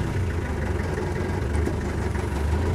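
A military-surplus Land Rover 110 soft-top with its original 2.5-litre diesel engine idles steadily, a close, continuous low rumble with no talk over it.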